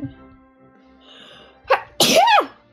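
Single loud sneeze at close range during a tabletop role-playing game session, preceded by a short sharp inhale and then a burst of breathy noise.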